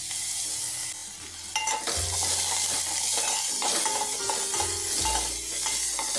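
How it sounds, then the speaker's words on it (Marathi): Onion sautéing in oil on low heat, a continuous soft sizzle broken by repeated scraping stirs of a spatula against the pan, close and moderately loud, with no talking. "कांदा मंद आचेवर चांगला गुलाबी रंगावर परतून घ्यायचा बरं का"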